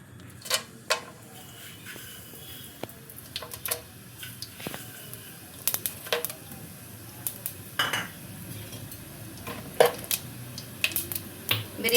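Whole spices and bay leaves frying in about three spoons of hot oil in a pan for vegetable dhalcha, giving scattered faint crackles and light sizzle with occasional sharp clicks of metal utensils against the pan.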